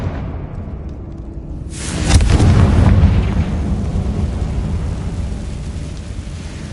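A fiery explosive spell blast in Hogwarts Legacy booms loudly with a sudden heavy impact, then a rumbling roar that slowly decays.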